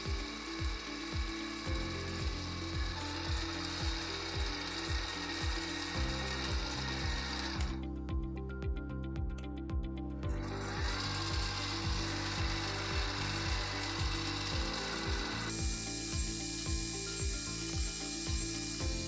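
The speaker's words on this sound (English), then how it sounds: "Then I mark the position using a spot drill, and then I drill." A drill bores holes through a metal part after spot drilling on a small machine setup, a quiet, steady mechanical whir with rapid rhythmic ticking running throughout and a short dip in the middle.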